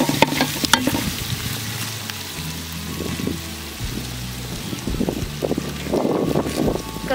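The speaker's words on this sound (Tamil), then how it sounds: "உப்பு ஸ்டார்டிங்லேயே ஆட் பண்ணால் வெங்காயம் கொஞ்சம் சீக்கிரமாக வதங்க." Onions frying with salt in a pan for a crab curry, an ongoing crackling sizzle with scraping stirs, some low rumbling handling noise underneath, no talk.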